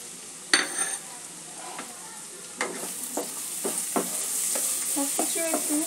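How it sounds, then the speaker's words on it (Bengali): Spices for egg curry, including coriander, cumin and Kashmiri chili powder, sauté in a pan, with repeated scraping stirs over a steady sizzle that grows louder toward the end. "সব কিছু একটু ভালো করে কষিয়ে নেব"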